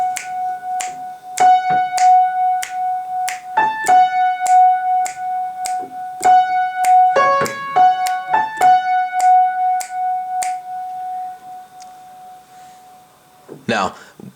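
Piano playing the high, shimmering part of a song, with bright sustained upper notes struck in a steady pattern over a held tone, clear and close, followed by a short noisy knock at the end.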